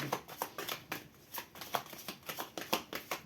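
Tarot cards are shuffled by hand for a reading, giving a quick irregular series of close, crisp riffling slaps and flutters with no speech.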